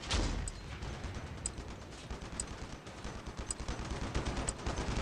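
Gunfire in a mech shooter video game, a steady stream of rapid mechanical shots at moderate loudness, with sharp metallic clanks recurring about once a second over the rattle.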